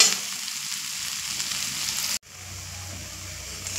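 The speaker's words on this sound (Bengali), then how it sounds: "আমি মশলার সঙ্গে আলু আর ডুমুরটা খুব সুন্দর করে কষিয়ে নিয়েছি" Potatoes and figs sautéing with spices in a wok over a medium flame, giving a soft continuous sizzle that briefly cuts out midway and then resumes, slightly lower.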